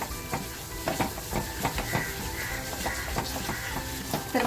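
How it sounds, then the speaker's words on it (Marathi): Spiced masala frying for chicken poha bhujing, a steady close sizzle with repeated scraping stirs of a spoon against the pan throughout. "मसाला असा आपल्याला छान फ्राय करून घ्यायचा आहे"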